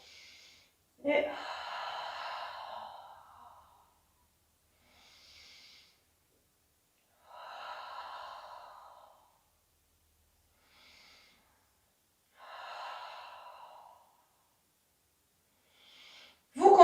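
Deep, drawn-out breaths during a Pilates leg exercise, several audible inhales and exhales in a slow, even rhythm with quiet pauses between them, close and fairly soft, with no talk.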